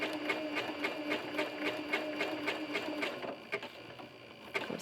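A sewing machine stitches an appliqué quilt at a slow, steady pace, its rapid needle pulses running close and even, then pausing briefly as the work is pivoted at a corner.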